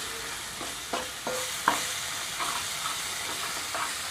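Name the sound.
ginger paste and spices frying on low flame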